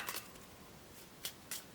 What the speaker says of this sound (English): terrible at shuffling.